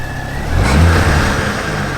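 A Ford Focus ST MK2 engine fitted with an Airtec inlet plenum gives a short, gentle rev, rising then settling back to a steady idle, close by with no talk.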